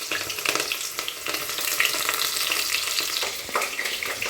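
Chopped onion fries in hot oil spiced with bay leaf and cardamom for vegetable pulao. A steady, bright sizzle runs throughout, broken by occasional stirring scrapes.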